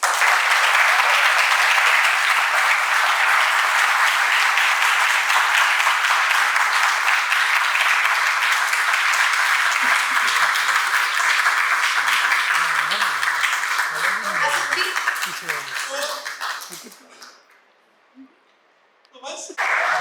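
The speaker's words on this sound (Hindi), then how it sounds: "तो आप सब लोग इनके लिए ताली बजाइए।" Audience at a Taarak Mehta Ka Ooltah Chashmah celebration event claps for the cast in long, steady, loud applause that fades out near the end, followed by a brief lull before sound resumes.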